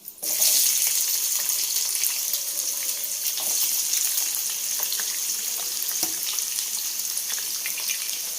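Onions dropped into hot tempering oil with dried red chillies and seeds, a sudden burst of loud hissing sizzle that settles into a steady, close crackle with occasional pops.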